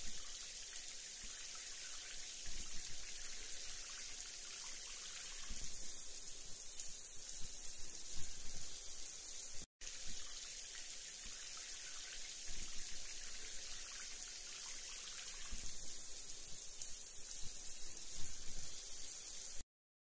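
Fountains splash steadily beside a Christmas tree in a London square on Christmas Eve, a continuous soft wash of falling water heard from a distance, faint and without talk.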